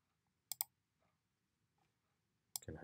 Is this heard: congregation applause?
no